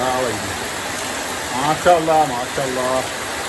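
Rain falling outdoors during a summer shower, a steady, even hiss throughout, heard close beneath a person talking.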